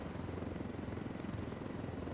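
A helicopter in Ghost Recon Wildlands, a stolen enemy aircraft, drones with a steady rotor thump and engine roar, continuous and close, with no voices.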